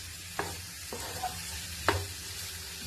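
Onions frying in a pan for a stir-fried mezhukkupuratti dish, a soft steady sizzle with a few sharp stirring scrapes spaced across the stretch, no voices.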